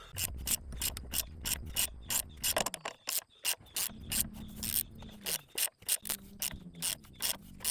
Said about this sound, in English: So I'm using a 14 millimeter ratchet wrench. And we're just going to start going clockwise to push this pulley on.